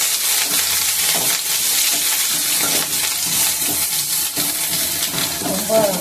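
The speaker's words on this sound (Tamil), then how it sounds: "நல்லா வதக்கி வச்சுக்கலாம்" Curry leaf kulambu ingredients sautéing in a pan, with a continuous loud sizzle and frying crackle, plus occasional stirring scrapes throughout.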